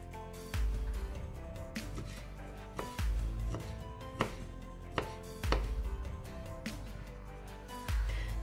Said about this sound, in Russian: Ветчину для этого салата я нарезаю тонкой соломкой.